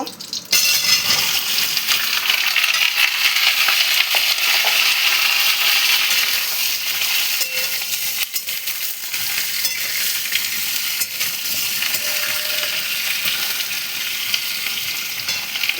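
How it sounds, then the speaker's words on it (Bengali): Kochu loti (taro stolons) tipped into a pan of hot oil with kalo jira, bursting into a loud, steady sizzle that stays strong as the stolons fry and get stirred. "এরবারে লতিগুলো ঢেলে দেব।"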